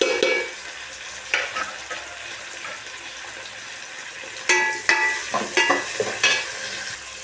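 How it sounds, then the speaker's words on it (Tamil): Tomatoes and onions sautéing in a pan in a village kitchen, a soft sizzle underneath with several sharp scraping stirs of a spoon against the pan, clustered near the end. "தக்காளி வெங்காயம் வதங்கும்போது உப்பு சேர்த்துக்கணும்."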